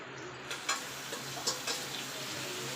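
Drumstick and tomato curry fries and sizzles steadily in a pan, with a few soft clicks of stirring and no talk.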